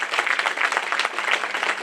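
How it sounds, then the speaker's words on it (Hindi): Dense applause fills a hall at a lawyers' enrolment meeting, steady and continuous through the short span. "बजाइए अपने लिए तालियों से।"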